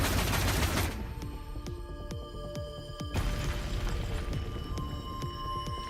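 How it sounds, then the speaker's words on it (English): A heavy blast in the video game Neural Cloud opens with a loud roar that drops to rumbling, followed by rapid crackling, clanking bursts mixed with mechanical shifting of great walls, sustained and loud. "The explosion blends with the sound of the shifting of the great walls"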